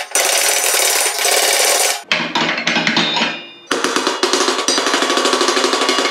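Repeated metal hammer blows strike a stuck pulley on a John Deere mower deck, loud close clanks in quick bursts, briefly pausing before a fast series of rhythmic hits, with no talking.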